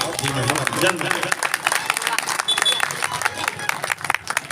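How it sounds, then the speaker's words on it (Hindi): A crowd at a devotional gathering in Raipur, Chhattisgarh, applauds loudly and keeps it going, with dense uneven clapping and crowd noise mixed with voices. "एक बार जोरदार ताली बजाओ"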